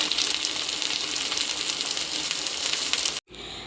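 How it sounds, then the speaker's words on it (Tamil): Sliced okra sautéing in hot oil in a pan, a steady dense sizzle that holds loud and even, then cuts off abruptly near the end before resuming more quietly. "எண்ணெயிலே வேக வச்சு வதக்கி எடுத்துக்கணும்."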